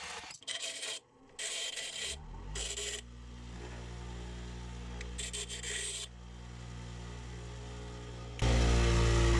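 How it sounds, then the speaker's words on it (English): A bandsaw cuts through a part for a Traxxas Mini Maxx spur gear install, running as a steady motor drone with rasping cutting bursts that start and stop, then swelling louder near the end. "I'm just going to go ahead and use the bandsaw and chop this right there"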